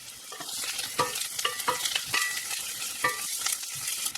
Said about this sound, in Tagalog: So lagay na natin yung mantika kasi igigisa natin yung bawang at sibuyas